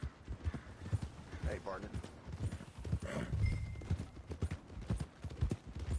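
Horse hooves clip-clop steadily in Red Dead Redemption 2, a rhythmic trotting beat with occasional snorts, heard under game dialogue and voices talking over it.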